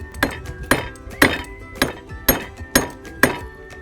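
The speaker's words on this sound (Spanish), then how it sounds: "ahora seguimos martilleando" A hammer strikes a wooden wedge being driven into the handle of a garden tool, seven sharp ringing blows at a steady rhythm about half a second apart, close and loud with no talking.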